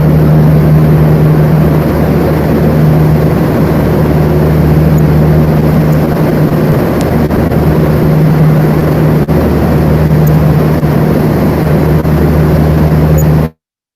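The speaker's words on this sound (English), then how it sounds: "we started spinning the furnace at 5 RPM, and we want to show you what that looks like and give you a little feel for what it sounds like" A large spinning glass-casting furnace at the Richard F. Caris Mirror Lab turning at 5 RPM, casting a GMT telescope mirror, gives a loud, steady low mechanical roar and hum that runs unbroken, then cuts off abruptly.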